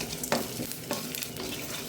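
A spoonful of coriander seeds and half a spoon of cumin sizzle in a pan, with brisk stirring scrapes and small pops over a steady frying hiss.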